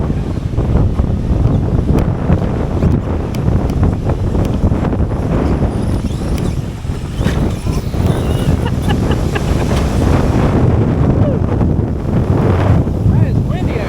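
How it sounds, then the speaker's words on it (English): Strong gusting wind roars across an open outdoor area ahead of a possible storm, buffeting the microphone with loud continuous rumble, with people talking intermittently beneath it. "Oh my gosh, it's so windy."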